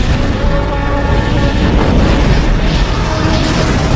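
A massive laboratory explosion in a film, a dense, loud roaring blast that fills the whole span with sustained rumbling and crackling debris and shows no break or fade.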